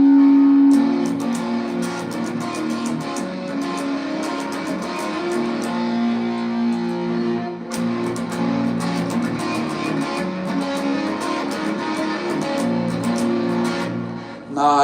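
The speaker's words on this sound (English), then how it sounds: "Maybe if I use distortion, it might sound better." Electric guitar played through a distortion effect, sustained chords and riffs ringing continuously for about fifteen seconds, with a brief break near the middle, loud and close with no talking.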